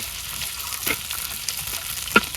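Ginger, garlic and cumin paste fries in hot oil with a steady, close sizzle, broken by a couple of sharp clinks from a stirring spoon against the pan.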